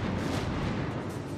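In World of Warships the battleship Kongo fires a full salvo from its main guns, a dense, sustained roar of heavy gunfire that fills the moment without any talk.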